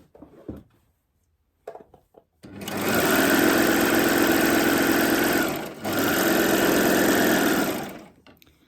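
A Babylock Acclaim overlocker stitches fabric in two loud, steady whirring runs separated by a brief pause, preceded by a few quiet handling clicks.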